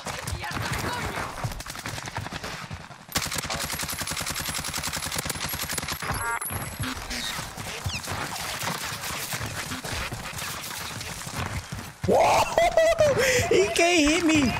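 Rapid gunfire crackles through a Call of Duty Warzone match in dense, repeated bursts, with a player talking and laughing over the shooting.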